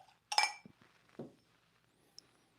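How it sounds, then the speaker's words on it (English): Whiskey is poured into a fresh Glencairn glass, with a bright clink of glass followed by a few softer knocks and a faint splash, close and quiet. "Let me get a fresh Glencairn and give it a pour."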